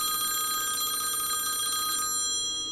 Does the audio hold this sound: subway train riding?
no